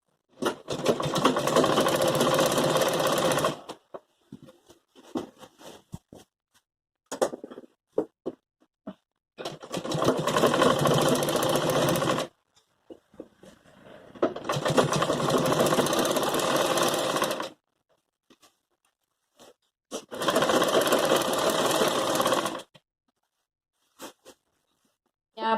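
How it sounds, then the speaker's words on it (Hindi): A sewing machine runs in four long bursts of steady whirring stitching, close and loud, while pleats are sewn onto a Patiala salwar belt, with short quiet pauses of fabric handling between runs. "यहाँ से मैं सिलाई लगाना स्टार्ट करूंगी"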